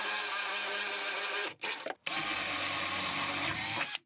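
A power drill bores through the center of a wooden wall stud in a home addition, a loud close whine with steady buzzing, briefly stopping twice before resuming.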